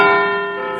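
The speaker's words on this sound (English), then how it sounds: "ring that bell" A single bell rung once in a shed, a clear bright tone with steady ringing overtones that decays slowly over under a second, heard alone without talk.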